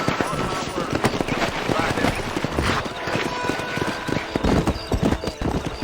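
Several horses gallop in Red Dead Redemption, their hooves clip-clopping in a dense, continuous rhythm with an occasional whinny, close and fairly loud, with people talking over the riding.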